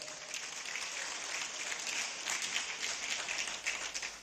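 Crowd applause at a Benue State government town hall meeting, steady dense clapping filling the whole stretch with small swells, fairly distant and loud, with no talk over it.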